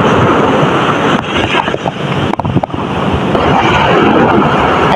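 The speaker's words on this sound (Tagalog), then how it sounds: "ito po yung tubig ng dagat. Medyo malakas po yung alon ng konti" Strong sea waves surge and break steadily along a Philippine shoreline, a loud, continuous roar of surf with gusting wind buffeting the microphone, heard alone with no talking.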